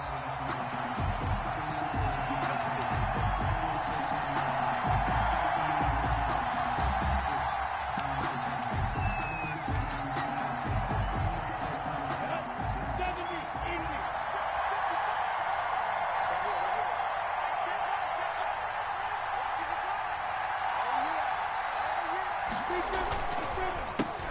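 Stadium crowd noise from a Jacksonville Jaguars versus Cincinnati Bengals football video game on PS4, a steady loud roar with cheering that holds throughout, mixed with thumps and game sounds beneath commentary.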